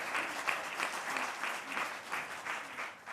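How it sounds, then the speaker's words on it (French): Audience applause for Brice on a foundation panel set fills the room with steady, moderately loud clapping that swells slightly in waves across the few seconds, with no voices over it. "On l'applaudit, vous avez dit."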